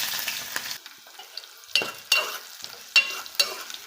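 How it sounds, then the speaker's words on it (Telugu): Chopped onions and cumin seeds fry in oil for a capsicum tomato curry, crackling softly while a spatula scrapes and taps the pan in several distinct strokes, with no talking. "ఉల్లిగడ్డలు అనేది కొంచెం ఎర్రగా వేగేంత వరకు ఫ్రై చేసుకున్నాము"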